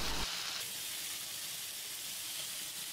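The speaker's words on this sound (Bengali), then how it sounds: "এভাবে করে সবগুলো কই মাছ ভেজে নিলাম।" Koi fish frying in hot mustard oil, a steady close sizzle and hiss that holds evenly throughout with a brief louder burst at the very start.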